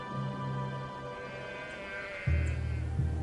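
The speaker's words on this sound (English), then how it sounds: "Today, sheep roam the highlands of South Africa's Karoo Desert." Sheep bleating in the Karoo highlands of South Africa, with sustained nasal bleats that grow louder and closer near the end, set against a steady outdoor hum.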